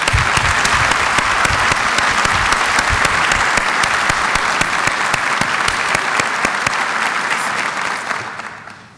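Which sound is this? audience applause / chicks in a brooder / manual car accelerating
audience applause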